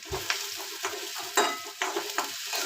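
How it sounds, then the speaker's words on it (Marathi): Onion frying in a pan until browned for kanda poha, a close sizzle with a rhythmic run of scraping stirs across the pan surface, steady and without speech. "तर कांदा चांगला ब्राऊन होईपर्यंत भाजायचा"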